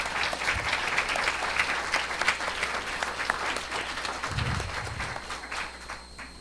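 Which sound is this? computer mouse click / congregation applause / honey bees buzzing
congregation applause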